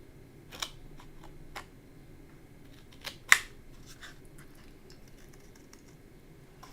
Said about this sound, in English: take a little scissors and I'm going to cut those little marks all the way down to that score line